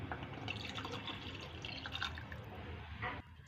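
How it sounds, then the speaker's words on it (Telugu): Water is poured into mutton curry frying in a pressure cooker. A close, continuous trickle and splash runs throughout with dripping textures, then ends abruptly near the close. "ఇప్పుడు దీంట్లో కన్సిస్టెన్సీకి తగ్గట్టుగా వాటర్ యాడ్ చేసేసుకొని కుక్కర్ మూత పెట్టేసుకోవాలి"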